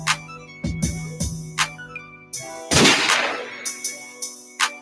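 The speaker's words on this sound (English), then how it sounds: "Gunshot." Several sharp gunshot sound effects ring out in quick succession, with one larger blast in the middle, over a low tonal hum.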